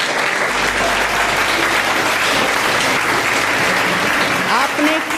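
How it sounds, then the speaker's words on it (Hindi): A seminar audience of students claps loudly and steadily in a dense, sustained burst of applause filling the whole stretch, with a faint voice beneath it. "अपने लिए एक बार जोरदार तालियां बजाइए"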